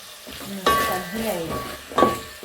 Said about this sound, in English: So I'm adding oil to the beef that's already in my pot